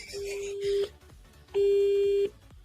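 Two steady telephone busy tones sound in succession, each a flat beep lasting under a second, with a brief pause between them.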